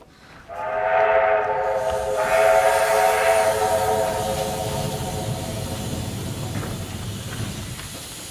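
Train sound effect played during a school stage play: a loud multi-tone train horn blast of about two seconds sounds twice in a row, then gives way to a sustained hissing rumble of rolling rail cars that slowly fades.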